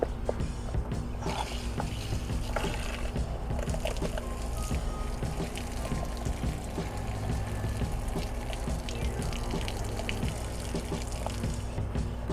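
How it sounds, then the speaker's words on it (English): Water spurts and gurgles from the outside shower line of a Wildwood FSX 170SS RV while the line is purged, a continuous splashing flow with sputtering bursts close by, without any talk. "The last line to purge is the outside shower line."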